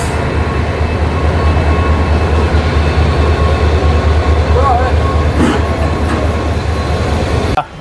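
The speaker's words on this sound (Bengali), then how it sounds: "আমাদের ট্রেন তার নির্ধারিত সময়েই হাওড়া থেকে ছেড়ে যাচ্ছে" The 18011 Chakradharpur Express pulls out of Howrah station with a loud, continuous rumble of wheels and carriages, plus a faint whine in the middle and clanks toward the end.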